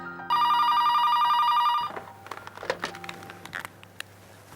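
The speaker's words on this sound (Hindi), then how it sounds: "फोन की घंटी" Telephone bell ringing, a loud continuous electronic ring for about a second and a half, then it stops, leaving faint clicks and room noise.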